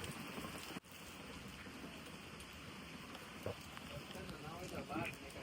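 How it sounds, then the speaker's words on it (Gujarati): Rain falls outdoors as a faint, steady hiss, with one sharp knock early on and muffled voices in the background. "વરસાદ કેવો છે? બહુ છે વરસાદ."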